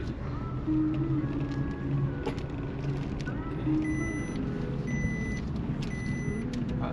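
A car on an open ground during a driving lesson, shifting into second gear; a steady, close engine hum runs throughout while people talk over it.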